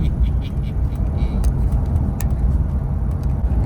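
A car cruises along a road on a road trip toward the mountains, its engine and tyre noise forming a steady, loud low rumble from inside the cabin.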